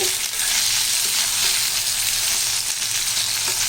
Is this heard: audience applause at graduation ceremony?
no